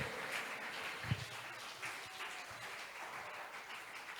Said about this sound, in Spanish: Aplauda fuerte a ese Cristo de gloria.